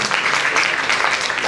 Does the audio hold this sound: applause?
yes